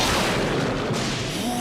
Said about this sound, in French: J'adore les feux d'artifice.